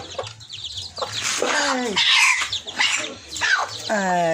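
A domestic desi hen clucks near the microphone on a small farm as her newly hatched chicks peep in short, rising bursts around her.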